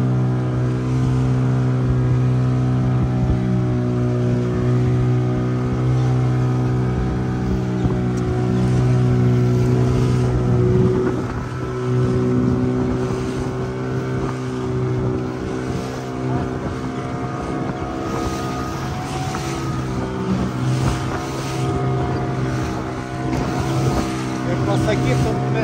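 A fishing boat's motor running at sea off the Kenyan coast, a steady, droning hum with a low throb and engine harmonics holding evenly throughout, with wind and water noise mixed in.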